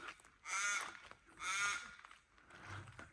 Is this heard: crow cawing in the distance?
yes